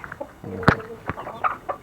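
A hen gives a few short, soft clucks close by, scattered over a brief moment with small rustling sounds between them.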